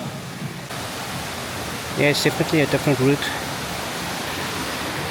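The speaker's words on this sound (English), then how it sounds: "The waterfall is that way." Constant hiss of a waterfall on Dinghu Mountain, steady and moderately loud in the background while someone speaks briefly over it.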